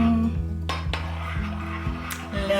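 Polenta with onions, garlic and tomato sauce is stirred in a pot, the utensil knocking and scraping against the metal in a few close, uneven strokes with a low background hum.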